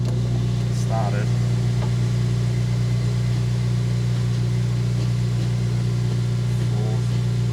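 A Honda Type R engine idles steadily just after starting, a constant low hum throughout with faint voices and small clicks over it.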